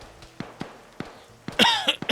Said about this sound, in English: Sorry, I have a very bad cough.